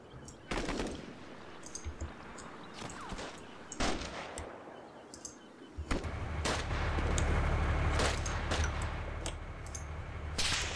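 Artillery barrage fired for effect in Combat Mission Black Sea: scattered sharp blasts and cracks early, then a heavy sustained rumble of explosions with repeated impacts, moderately distant and loud.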